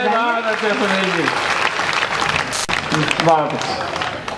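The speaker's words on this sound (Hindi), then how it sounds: "एक बार जोरदार तालियां सुनील जी के लिए।" A crowd applauds at a Hindi comedy poetry gathering, dense clapping filling the clip while a voice speaks over it at the start and again near the end.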